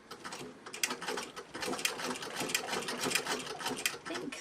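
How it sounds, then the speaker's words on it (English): A vintage 1912 Singer 27 sewing machine fitted with a zigzag attachment stitches at a quick, rhythmic mechanical clatter, close and steady with light ticking of gears, alone with no voices. "let's see if this Singer 27 from 1912 is going to work with"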